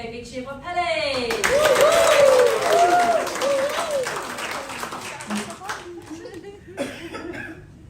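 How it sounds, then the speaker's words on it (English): Graduation ceremony audience in Samoa cheering and applauding a graduate, a loud sustained swell of clapping and whoops with a few high shouts, tapering off toward the end. "Please give a big cheer for Pele."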